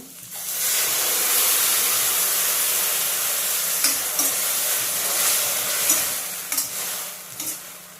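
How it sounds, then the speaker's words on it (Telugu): Onions and tomato paste fry in a pan with a steady, close sizzle and hiss, broken by a few clinks and scrapes of stirring. "ఆనియన్స్ అయితే మంచిగా ఫ్రై అయిపోయాయి"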